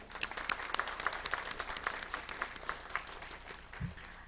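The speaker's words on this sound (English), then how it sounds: "Give them a round of applause, everyone." Steady moderate applause from an audience at a council meeting, many hands clapping together at a medium distance for about four seconds before thinning out.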